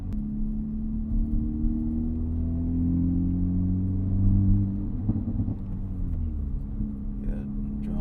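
Cabin sound from inside an Acura Integra Type S with a Milltek catback exhaust while driving: a low engine and exhaust hum with gently shifting pitch and road rumble, steady and moderately loud. People talk over it.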